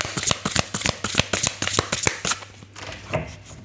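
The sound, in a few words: shuffling oracle cards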